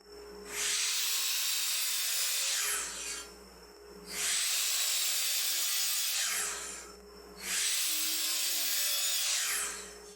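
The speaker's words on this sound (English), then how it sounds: "So we're going to cut all 3 of our 2x4s to 82 inches." A hand saw rips through 2x4 lumber being cut to length, three long rasping strokes each lasting about two seconds with brief pauses between, loud and close in a woodshop with no talk.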